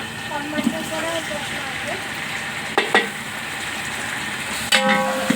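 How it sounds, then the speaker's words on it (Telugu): Potatoes and vegetables fry in oil in a large pot for a six-kilogram vegetable biryani, a steady loud sizzle with occasional scraping stirs and clanks, while a person talks over it. "బంగాళదుంప కూడా వేసేసి మళ్ళీ సేపు వేయించేద్దాం"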